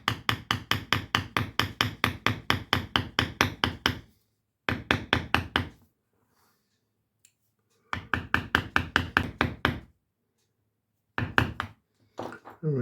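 A hammer taps on a leather-tooling tool while working a flower into leather, delivering rapid, evenly spaced metallic knocks in four bursts separated by brief silences, close and crisp.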